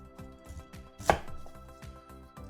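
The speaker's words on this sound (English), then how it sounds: "And we want to cut the stem too." A knife cutting through the stem of a fruit on a board, heard as a quiet, rapid series of light chopping taps with one louder, sharper cut in the middle.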